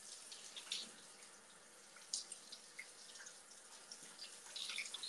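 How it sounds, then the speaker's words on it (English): Water runs and patters steadily in a shower, with soft splashes and drips over a constant hiss and no voices. "Well, yeah, I'm in the shower."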